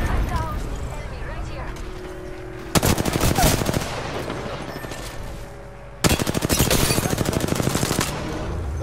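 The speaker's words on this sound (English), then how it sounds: "Taking fire." Video game gunfire comes in two loud, close bursts of rapid automatic fire over a steady background din.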